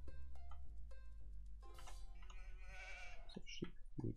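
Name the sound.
sheep bleating in the Age of Empires 2 video game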